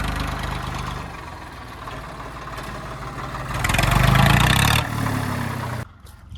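A Swaraj 855 tractor engine runs with a steady low chugging idle that swells louder for a second before dropping off, with no voices.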